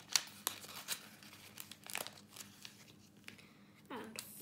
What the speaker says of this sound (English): what I'm going to do is open this up a bit and pop it in and fold